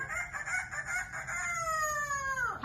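A parrot imitates a rooster's crow, a single drawn-out rising-then-falling cock-a-doodle-doo call delivered close and clear with no talking over it.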